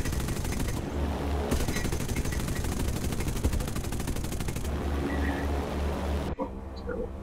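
Bomber gunners fire machine guns in the War Thunder video game, a loud continuous rattle of rapid gunfire over engine noise that stops abruptly near the end.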